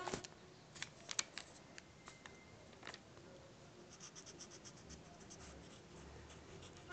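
Colored pencils scratch and scribble across paper, with faint, close, irregular strokes and a few sharper ticks in an otherwise quiet room.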